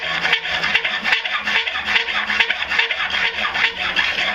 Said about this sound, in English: You gotta file it, widen the hole, get all the round marks out of there.